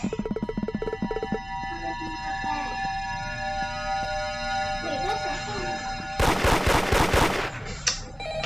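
Rapid gunfire from a horror video game, a fast burst of shots up front, then a denser, louder volley near the end over droning, siren-like game tones; no talking.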